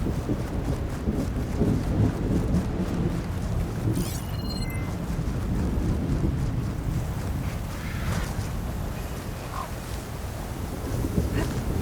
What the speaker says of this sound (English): I can outlast the storm.